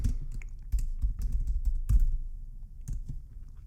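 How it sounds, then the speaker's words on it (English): Typing on a computer keyboard while entering labels into a spreadsheet: close, clear key clicks in quick irregular bursts with short pauses between words, alone without talk. "we will type in year right here, and below it we will type in dividend payout, and below that we will type in yearly dividends"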